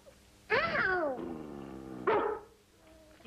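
Close, loud dog vocalizing in two bursts, a long whining bark-like cry followed by a shorter sharp yelp, with quieter background between.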